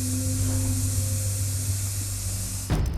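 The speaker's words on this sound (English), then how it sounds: "And while the spraying has little effect on the number of roaches, It's having a devastating effect on Althea." Steady broadband hiss of pesticide spray running continuously for a few seconds over a low hum, then cutting off abruptly near the end.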